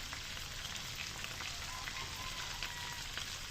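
Mushrooms frying in a pan with pepper give off a faint, steady sizzle and crackle, a continuous soft hiss with small pops heard close and alone.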